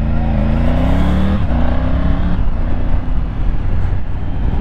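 A Triumph Tiger 900 GT Pro motorcycle in sport mode accelerates hard, its loud, close engine note climbing in pitch, dipping briefly at a gear change, then pulling on.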